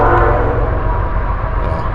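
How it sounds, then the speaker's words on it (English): A train passes close to a campsite at Mt. Brooks in Wisconsin, producing a loud, steady, heavy rumble that fills the whole moment. "there's a train going by."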